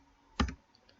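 A single short burst of clicks from a computer keyboard while a web address is typed into a browser, heard alone, close and fairly quiet, followed by near silence.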